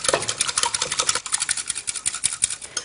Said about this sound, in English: And whisk that.